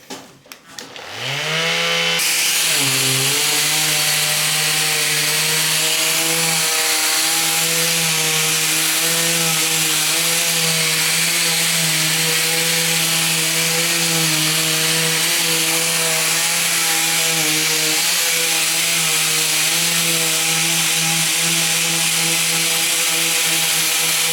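A Parkside PAMS 12 A1 12V cordless detail sander runs against wood with coarse P80 or P60 paper, a steady loud buzzing hum with a slight wavering pitch that holds for the whole stretch after a brief start-up.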